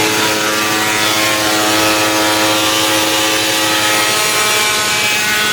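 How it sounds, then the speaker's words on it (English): A die grinder fitted with a carbide burr grinds open holes in a car body at a factory, giving a loud, steady, harsh whine with rasping metal contact that runs unbroken throughout, with no talking. "he's just taking the die grinder and like a carbide burr, and he's going around and getting those open"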